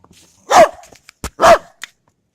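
Dogs barking outdoors during a winter blizzard in central Illinois: two loud, close barks about a second apart, with a few short yips and clicks between, and no talk.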